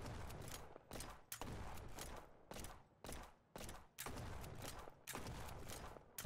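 Bursts of gunfire from the police game Flashing Lights, several rapid volleys in quick succession with short gaps between them, loud and close, no talk.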